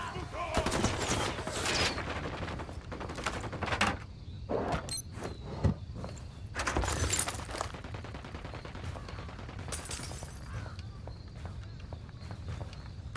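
Gunfire in the Ghost Recon Wildlands video game: repeated loud bursts and volleys of shots crack over a busy mix of game sounds, with a heavy barrage in the middle and scattered shots near the end.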